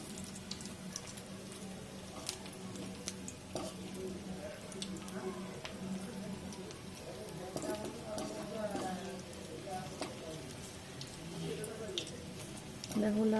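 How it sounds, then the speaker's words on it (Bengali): Semolina vegetable patties frying in hot oil, a soft, steady sizzle with scattered crackles and pops, fairly quiet and close, with occasional clinks of the pan. "লাল করে ভেজে নেব"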